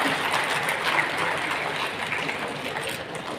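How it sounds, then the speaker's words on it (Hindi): Applause from a large audience at a National Technology Day award ceremony rolls on as a steady, rushing wash of hand claps, fairly distant and easing off slightly toward the end. "तालियों की बौछारें होती रहनी चाहिए।"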